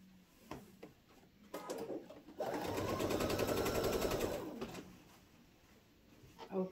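Sewing machine stitching binding onto a quilt, with a few short stitch bursts and then a steady, rapid mechanical whirr for about two seconds before it slows and stops, recorded close and quiet.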